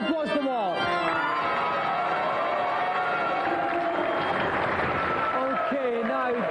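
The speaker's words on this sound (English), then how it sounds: "Round of applause to Mark." Game-show studio audience applauds and cheers for a contestant, a steady mass of clapping and crowd noise filling the room throughout, with a presenter's voice speaking over it.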